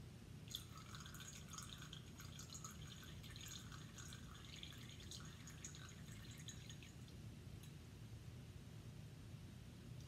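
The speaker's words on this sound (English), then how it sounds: "You can see the water is dripping pretty fast, but it's taking much longer than with the gravel." Water drips steadily through a sand sample in a soil permeability lab test, a quick patter of drops running almost continuously for several seconds before thinning out, faint and close against a low background hum.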